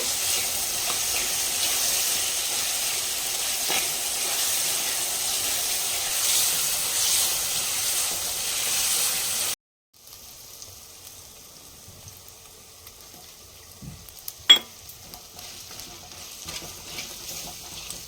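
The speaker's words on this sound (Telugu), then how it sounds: "ఇప్పుడు చూడండి బాగా ఫ్రై అయిపోయింది" Katla fish frying in hot oil in a home kitchen, a steady loud sizzle that cuts off abruptly, then quieter crackling with a sharp stir or clatter.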